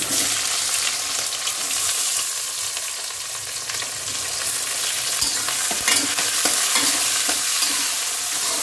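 Onions frying in white oil with mustard tempering in a home kitchen pan for khichuri, a steady close sizzle broken by scraping stirs of a spatula throughout, with no talk.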